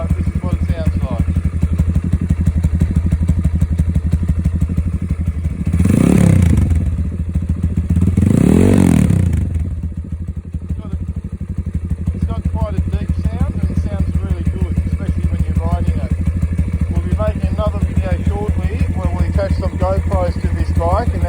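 A Thumpstar TSX 140cc dirt bike idles steadily and close by, its single-cylinder engine putting out an even, rattly chug with two brief blips of the throttle partway through.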